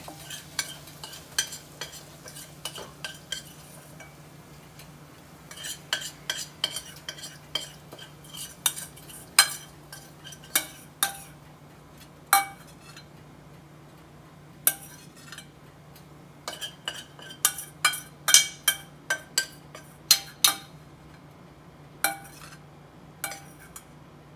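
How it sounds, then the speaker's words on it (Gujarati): Vada pav spice masala roasting in a pan, a low sizzle under many sharp metallic clinks and scrapes of a spoon stirring against the pan, coming in irregular bursts, close up, with no talking. "આ મસાલો શેકાય ને પછી નાખવાનો બટાકાના માવામાં સરસ લાગે છે"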